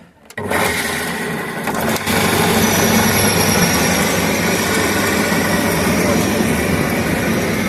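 A grain winnower for barley, driven by a washing machine's electric motor, starts up with a sharp clunk and settles into a loud, steady mechanical drone and rattle that continues without pause.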